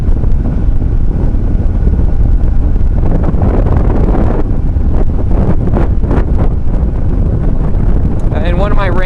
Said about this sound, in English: Oh, the wind picked up.